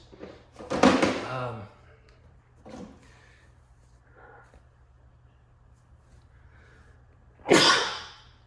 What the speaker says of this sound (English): So I apologize, but I did sneeze.